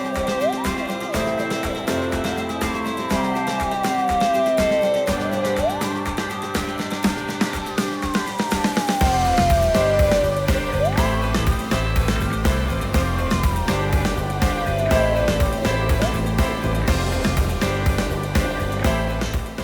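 A fire engine's wailing emergency siren sweeps up and down in repeated long cycles, loud and steady, over heavy traffic rumble.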